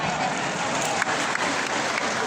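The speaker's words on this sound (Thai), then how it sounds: "ขอเสียงปรบมือด้วย" Crowd applause at an award presentation during sports games in a national stadium, a dense, even wash of clapping heard throughout the brief moment.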